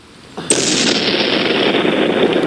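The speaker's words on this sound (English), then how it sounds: "It's like a gunshot." A single sharp blast opens the clip, then a sustained loud broadband roar and crackle follows, like a gunshot effect in a sci-fi audio drama set in woods, with no voices.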